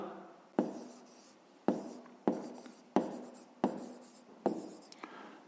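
Pen strokes scratch across paper during a Ukrainian fifth-grade maths exercise, six distinct, close, crisp bursts, each starting sharply and trailing off, separated by short pauses.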